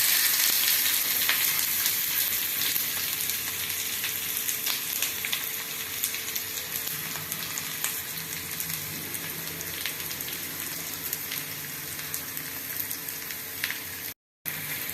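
Chopped onions fry in a pan for a yam (karunai kizhangu) masala, giving a steady, close, bright sizzle that runs unbroken for the whole stretch except for a brief cut near the end, with no voices.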